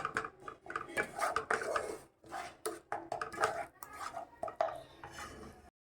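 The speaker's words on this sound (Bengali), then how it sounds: "আরও ভালো করে মশলাটাকে কষাতে হবে" A spoon scrapes and clatters in a pan while masala with onion and garlic is sautéed for a prawn malai curry, a steady close run of stirring knocks and scrapes with a few brief pauses.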